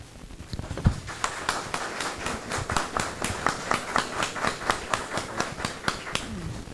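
Rhythmic applause in a city council chamber, the audience clapping in unison with a steady pulse of sharp, evenly timed claps, fairly close and continuous.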